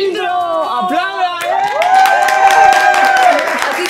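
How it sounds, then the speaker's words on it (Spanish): A studio audience on a fashion TV show claps and cheers, with lively whoops and shouting voices layered over the clapping, loud and close, swelling in the middle before easing off. "¡Aplauda!"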